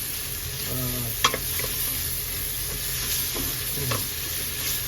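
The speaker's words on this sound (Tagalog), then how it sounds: "Luluto lang natin saglit yung sibuyas" Onions sautéing in a pan for beef caldereta: a soft, steady sizzle with a few spoon scrapes and clinks as they are stirred, close by and with no talking.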